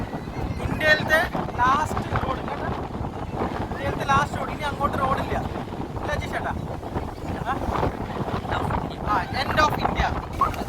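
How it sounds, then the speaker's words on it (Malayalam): Strong wind roars and buffets the microphone on the seashore at Dhanushkodi, with waves breaking and people talking over the gusts. "നല്ല കാറ്റാണ് ഇതിപ്പോൾ സൗണ്ട്"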